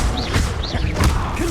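Expelliarmus spell cast in Hogwarts Legacy: two or three quick whooshing magical bursts with swept, warbling tones and soft thuds over a steady game background, close and fairly loud.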